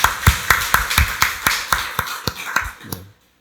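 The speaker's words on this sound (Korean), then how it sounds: "박수로 하나님께 영광 돌리겠습니다." A church congregation claps in a brisk, regular rhythm during a Sunday worship service, about a dozen sharp, even beats at a steady tempo that stop abruptly into silence.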